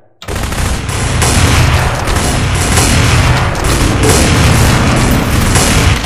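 Sustained, loud gunfire and explosions from the video game Call of Duty Black Ops fill the whole stretch, a dense continuous barrage of shots and booms.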